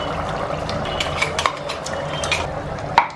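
Thick ground coconut paste being stirred into a simmering Kerala roasted-coconut beef curry, with steady scraping and clinking of a spoon against the pot and a couple of sharper knocks near the end.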